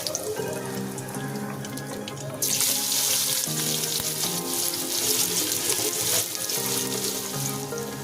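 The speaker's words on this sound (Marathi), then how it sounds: "बघू शकता तुम्ही कांदा आपला चांगला फ्राय होतोय तेलामध्ये" Onion and curry leaves frying in hot oil produce a rushing sizzle that swells sharply louder partway through and stays intense for several seconds before easing back, over faint steady tones, with no talking.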